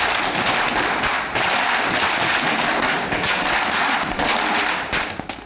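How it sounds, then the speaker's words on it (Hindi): Dense, continuous crackling and popping bursts fill the air for several seconds, like a string of fireworks or firecrackers going off nearby, set off in celebration in Badlapur, Maharashtra. "लोगों ने खुशी में आतिशबाजी की"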